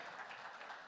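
An audience applauds to welcome a Union minister at a political conference, a faint, distant wash of steady clapping throughout with no voices.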